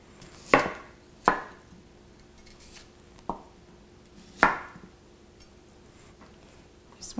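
A knife slicing red onion thinly on a board gives five sharp, separate cuts at an uneven pace, close and clear against a quiet background.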